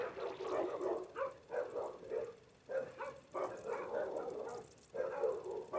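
Dogs bark in a run of repeated, fairly loud bursts with short gaps between them, carrying on steadily in the background of an indoor space.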